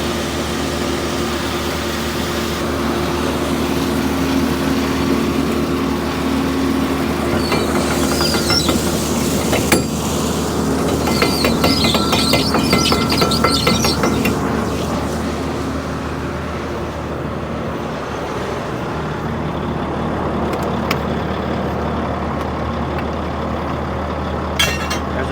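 A red pickup truck rolls along during harvest, its engine and road noise forming a steady, close low drone from the cab that holds for the whole stretch, with a few brief rattles and bumps partway through.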